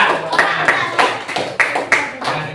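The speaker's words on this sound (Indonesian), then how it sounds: "tepuk tangan untuk kelompok" Classroom applause for a student group, a handful of close, distinct claps in an uneven rhythm with some voices between them.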